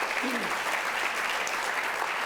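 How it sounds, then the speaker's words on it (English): A studio audience applauding a veteran newsman's introduction, a steady wash of clapping held at a moderate distance, with a brief voice rising over it. "I heard some applause there"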